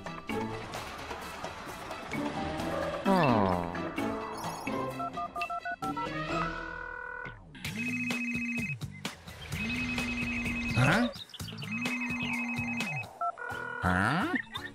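A telephone rings in a cartoon, with bursts of electronic ringing repeating in a steady pattern amid busy musical and sound-effect clutter, no talking audible.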